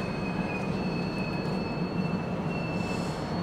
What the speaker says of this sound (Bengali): ট্রেন থামলো 8:53 বাজে।